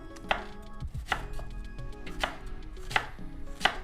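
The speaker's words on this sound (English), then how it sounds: "So I'm gonna cut my onions up." A knife chops onions on a board in about five sharp, distinct strikes spaced unevenly, close by, with quieter handling noises in between.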